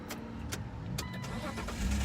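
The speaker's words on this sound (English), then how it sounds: "That is a running engine right there." A Jeep engine cranking with a few rhythmic starter turns and then catching, settling into a low running rumble that grows louder at the end, close by with no talking.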